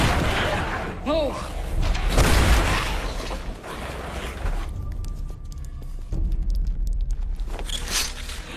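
A Molotov bomb attack in a Z Nation zombie film scene: loud booms and heavy thuds over a dense, rumbling soundtrack, with fiery blasts rolling through the first half before quieter mechanical clatter.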